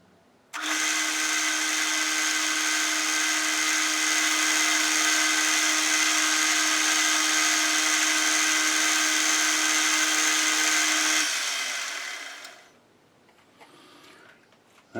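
A lathe chamfers an aluminum oil pot, giving a loud, steady tonal whine of cutting that holds for about eleven seconds, then fades and stops, leaving quiet shop noise.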